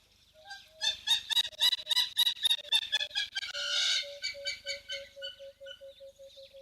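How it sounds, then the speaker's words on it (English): A hammerkop calls at a waterhole with a run of rapid, piping, clucking notes, fairly clear and mid-distance, rising in intensity and then easing into a long, thin sustained note with no talk over it. "That sounded very much like a hammerkop, which is a bird."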